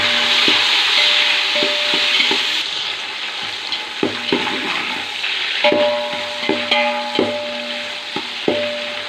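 Tomato and small onions sauté in a pan for a bisi bele bath rice dish, a steady sizzle broken by repeated sharp scrapes and knocks of a spoon stirring against the pan, fairly close.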